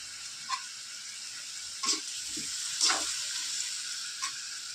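Ingredients for a chicken gravy sauté quietly in a pan with a soft, steady sizzle. A few faint clicks of stirring fall over the sizzle, with no talking.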